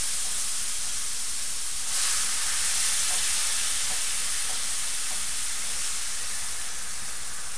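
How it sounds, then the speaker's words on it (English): Bacon with bean juice and beans sizzling in a hot skillet, a steady broadband hiss that swells louder around two seconds in and then holds, with no talking. "Put that right over in our skillet here."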